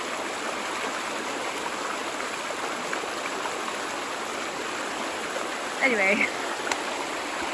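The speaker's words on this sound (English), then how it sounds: "The force of that water is pretty full on" Strong rushing water of a flooded stream pouring past a gunnera plant, a steady loud broadband roar throughout, with a brief spoken word near the end.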